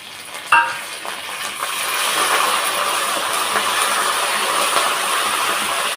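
Curry leaves and dried red chilies crackle and sizzle in hot coconut oil for coconut rice, a sharp pop at the start giving way to a steady, close frying hiss that holds to the end.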